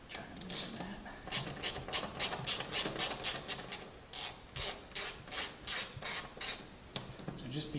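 A screwdriver loosens small T8 Torx screws around the LCD screen of a Miller Bobcat 265 welder, making a close, steady run of short ratcheting scrapes and clicks in quick, uneven bursts.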